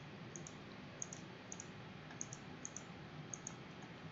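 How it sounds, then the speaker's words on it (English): Faint, sharp clicks from a computer keyboard come at irregular intervals over a low, quiet background hum. "Once finished, hit enter again on your keyboard."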